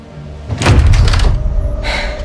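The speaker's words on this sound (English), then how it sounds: "I just open the door" A door opens with a heavy thunk and a rushing, clattering swell of noise, followed by a fainter knock and a high whine fading in the background.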